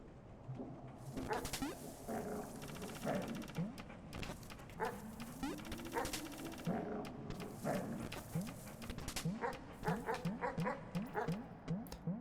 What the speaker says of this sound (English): Goodbye, stupid dog.